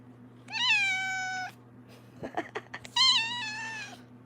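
A house cat meows twice, close and loud, each a sustained drawn-out call, with soft rustling and handling noises between them.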